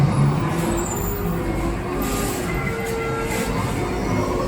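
A ghost train dark ride car at Flamingo Land rolls along its track with a continuous rumbling clatter, close and fairly loud, with faint higher squeaks and hisses over it.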